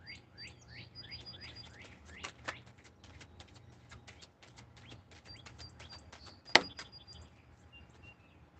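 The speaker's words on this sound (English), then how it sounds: "Hear the birds." Faint birds chirp and tweet repeatedly over a low steady hum, with a sharp click partway through.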